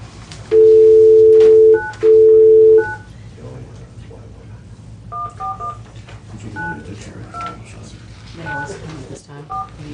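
A telephone keypad sends two long dual-tone presses, then a string of quick short tones as a number is dialed during a county board session, with room murmur and faint voices underneath.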